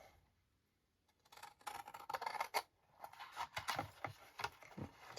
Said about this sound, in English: I'm going to use my big scissors because they're big panels. So cutting along those score lines